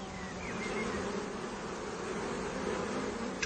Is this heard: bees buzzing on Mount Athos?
yes